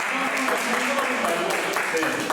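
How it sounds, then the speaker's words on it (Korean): Clapping from a youth group at a Sunday high school church service welcoming a newcomer, a brief patter of hands with voices mixed in. "새로운 친구 왔어요. 박수 한번 주세요."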